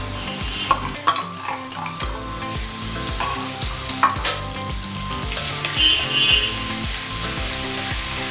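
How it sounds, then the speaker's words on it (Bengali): Ground garlic and green chilli paste fries loudly in hot oil, a dense continuous sizzle broken by spoon scrapes and stirring clinks against the pan, close and without any talk. "এই রসুনটা যখনই ফ্লেভার বেরোতে শুরু করবে, ভাজা হতে হতে"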